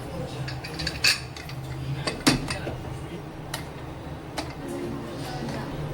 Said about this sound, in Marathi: आता इथे मी कुकरचं झाकण लावते आहे.